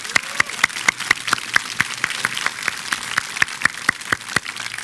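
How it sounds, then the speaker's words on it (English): A high school awards night audience gives steady, sustained applause for the graduates' celebration, many hands clapping together in a dense wash. A few sharp, distinct claps stand out close by, with a low background hum underneath. "So if we give them a big round of applause."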